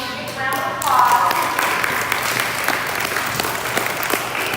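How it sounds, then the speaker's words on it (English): A crowd at a show gives a departing guest one big round of applause, a full, sustained wash of clapping with a brief voice rising near the start and the clapping holding steady to the end. "let's give him one big round of applause"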